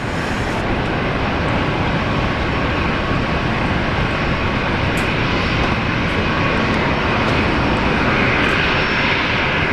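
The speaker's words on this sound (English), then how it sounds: "that Dash 8 is descending now" Dash 8 turboprop airliner descending toward Brisbane International Airport, a steady, loud broadband engine roar that holds unbroken throughout, with no voices.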